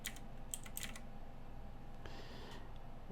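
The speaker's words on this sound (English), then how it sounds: "we're going to type in infinity" Keys clatter on a computer keyboard in a few brief bursts of close, light clicks over a quiet background hum, with a short pause between bursts.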